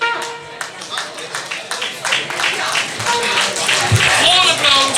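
A crowd claps in applause at a Limburg carnival song contest, dense patter of hands rising in strength over a few seconds, with music or voices mixed in underneath.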